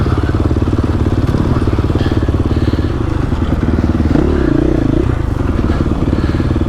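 A 2021 GasGas EX-450F dirt bike rides into rocky terrain, its engine a loud, close, steady chugging drone with clattering, and a voice briefly rises over it partway through.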